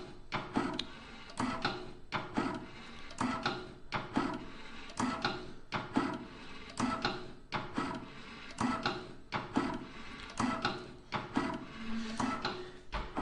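A table top depositor machine deposits chocolate and gummy into molds, making steady repeating mechanical clicks and clacks in a quick, even rhythm, moderately close and fairly quiet.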